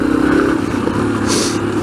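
A motorcycle engine runs close and loud while the rider brakes hard, its mid-pitched rumble steady with a short hissy rasp near the end.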